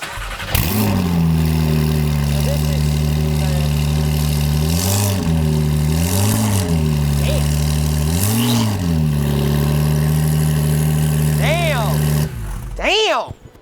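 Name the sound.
Porsche 911 Turbo S engine starting and idling, turbos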